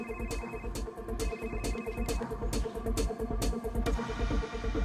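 A melodic electronic ringtone plays repeatedly at a moderate volume, its short chiming notes looping without any talking.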